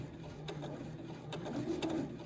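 A sewing machine runs a short burst of stitches through stocking fabric under the presser foot, a faint, steady mechanical whir with light ticking, close and alone, no talking.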